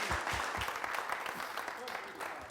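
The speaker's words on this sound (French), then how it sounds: "Merci de l'applaudir." Audience applause fills the hall, a steady wash of clapping with no gaps, fairly close and continuous throughout, mixed with some crowd noise.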